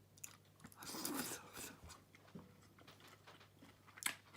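Someone chews onion and tomato salad dressed with extra virgin olive oil, salt and lime juice, giving soft, close, wet bites and crunches with quiet pauses between them.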